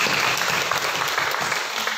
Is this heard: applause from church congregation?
yes